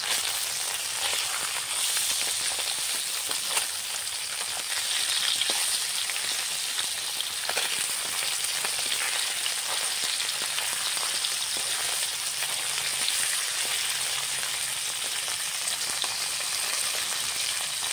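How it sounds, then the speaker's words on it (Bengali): Small raw fish fry in hot oil in a Bengali kitchen, a steady loud hissing crackle like heavy rain that continues unbroken for the whole stretch. "এগুলোকে ভালো করে নেড়ে চেড়ে ভেজে নিতে হবে গরম তেলে"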